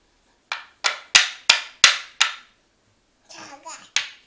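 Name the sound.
child hammering with a toy hammer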